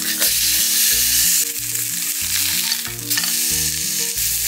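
Salted meat sears loudly in a hot pan, a dense continuous sizzle with a regular low rhythmic thumping running underneath throughout.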